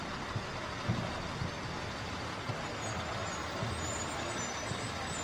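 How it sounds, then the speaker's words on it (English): A big truck rumbles past during a Veterans Day parade in Birmingham, Alabama, a low steady engine drone with a few short thumps and hisses, heard from nearby with no talking. "that is one big old truck."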